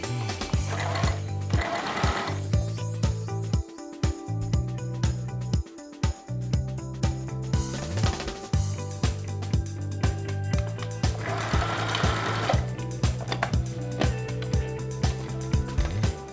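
A sewing machine stitches a notched shirt collar in repeated bursts of rapid mechanical clatter, broken by short pauses while the presser foot is lifted and the fabric is repositioned, with close, loud whirring runs in between.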